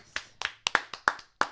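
A few sharp, separate handclaps ring out close by, about seven in a loose rhythm, from a small group on a morning show.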